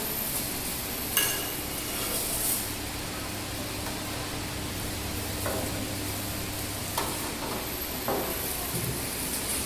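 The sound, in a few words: grated potatoes frying in oil in a wok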